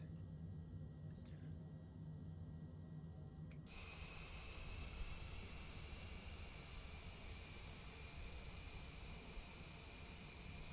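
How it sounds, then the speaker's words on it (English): Jet engine of a Cessna Citation Longitude spooling up in Microsoft Flight Simulator 2020, a continuous broadband roar that swells midway with a rising high whine layered on top, steady and loud with no talking. "Engine 2 running there, let's go engine 1 now."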